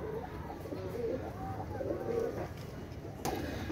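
Pakistani Teddy pigeons coo in repeated soft, throaty rolls close by over a constant low background hum, with a brief knock near the end; no speech.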